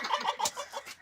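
A chicken clucks close by, a quick run of five or six short, throaty clucks in an even rhythm with nobody talking.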